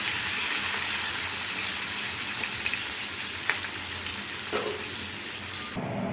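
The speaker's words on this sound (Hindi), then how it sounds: "थोड़ा सा फ्राई करूँगी।" Pieces of rohu fish fry gently in hot oil, giving a steady, close sizzle with a few faint clinks near the end.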